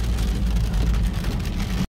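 Rain patters steadily on a car during a road trip from Paris to Italy, a dense, close wash of noise with engine rumble underneath.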